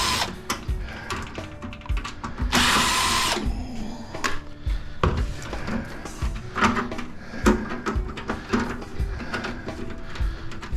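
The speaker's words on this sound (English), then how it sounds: "And take these 2 screws out that hold that fan in." A power drill backs out the screws holding the fan inside a microwave oven being scrapped, with short whirring bursts and one loud sustained run amid clattering handling noises, close and with no talk.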